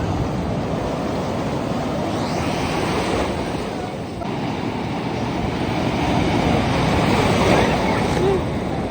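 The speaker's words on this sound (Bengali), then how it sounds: "এটা তো অনেক জোরে ঢেউ" Strong sea waves breaking at Cox's Bazar beach, a loud continuous roar of surf with heavy wind buffeting the microphone throughout.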